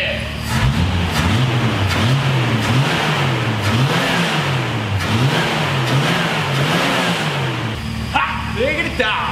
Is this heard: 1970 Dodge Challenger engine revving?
yes